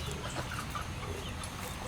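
Backyard chickens, docile hens settling toward bedtime, cluck softly in a steady low murmur at close range, with no talk over them.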